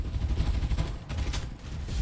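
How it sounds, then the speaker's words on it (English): Rapid gunfire in a mobile battle royale game during a tournament match, dense crackling bursts rolling on continuously at moderate distance. "The one member of SFS2 that was in the vehicle was taking a lot of gunfire"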